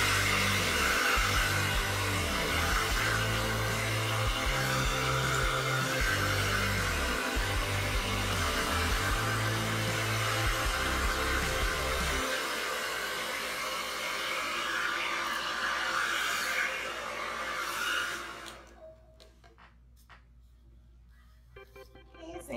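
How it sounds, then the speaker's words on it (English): A handheld hair dryer blows steadily and loudly, close up, while thick hair is being blown out. Its motor tone shifts partway through, and it cuts off near the end, leaving quieter rustling. "shooting the dryer, going down."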